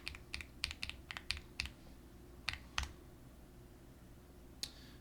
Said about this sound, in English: Man, I cannot type today.